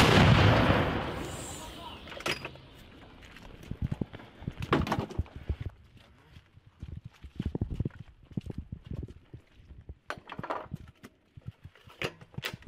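A single powerful artillery gun blast opens at a battery position near Bakhmut, its roar rolling away, followed by scattered clanks, thumps and footsteps nearby.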